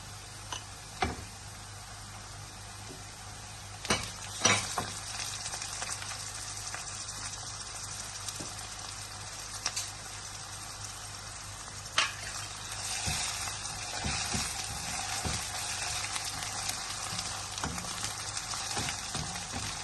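Onions frying in a pan sizzle steadily as ginger and garlic paste goes in for a kidney masala, with occasional sharp clicks and knocks of a utensil against the pan cutting through the hiss.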